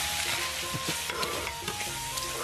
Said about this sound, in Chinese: 把所有的料头炒香